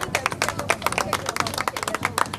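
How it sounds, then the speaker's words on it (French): A crowd at a Leucan head-shaving fundraiser claps for a boy who raised money for the cause. The many hands make sharp, uneven beats that carry on close and lively for the whole stretch. "Une bonne main d'applaudissement."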